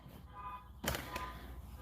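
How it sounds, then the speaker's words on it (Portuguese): Car horns honk outside during a church teaching session, a faint, muffled tone followed by a sharper, brief blast, heard at a distance. "Vamos esquecer essa buzinação aí"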